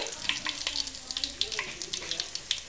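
Spices and lentils for kanda pulusu, including coriander seeds, fenugreek and chillies, sizzle and crackle in hot oil, with steady frying hiss and frequent sharp pops close by.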